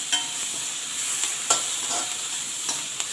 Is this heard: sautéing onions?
yes